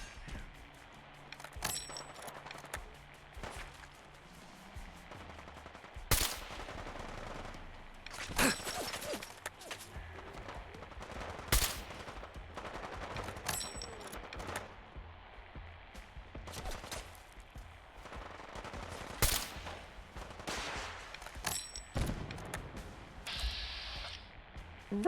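Scattered bursts of gunfire in the video game Fallout: London, sharp isolated shots and short volleys spread through the stretch, some loud and close, others softer, over a low murmur of game ambience without clear talk.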